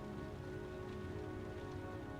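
Steady rainfall from the video game Heavy Rain, a dense, even patter that holds at moderate loudness for the whole short stretch with no voices over it.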